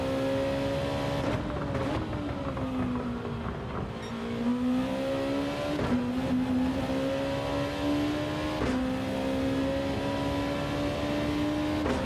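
Group 2 racing car engine in Gran Turismo 7, a loud continuous drone rising in pitch through the gears with sharp drops at each upshift, close and steady throughout.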